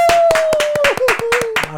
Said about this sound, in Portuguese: uma salva de palmas, Jobson Macena!